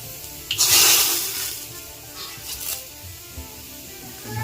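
Hot tempering is poured into tomato rasam, a sharp hissing sizzle that bursts in loudly, then settles into softer crackling and bubbling, close by and with no talking.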